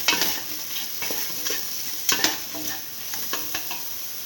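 A beef okra stew, just salted, is stirred in a pot: close scraping and clinking strokes over a steady frying sizzle, with no talking.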